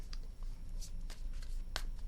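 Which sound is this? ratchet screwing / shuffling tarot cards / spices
shuffling tarot cards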